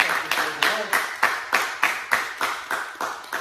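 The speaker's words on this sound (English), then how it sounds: "everyone give yourself a very nice round of applause" A class claps for itself, with about a dozen sharp, evenly spaced claps that sound close and fairly loud over a few seconds.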